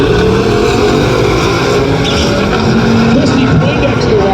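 A brand new Cadillac at a drag-and-drive racing event at Tulsa Raceway Park roars with a steady, loud engine drone that fills the clip without a break, and a voice talks underneath.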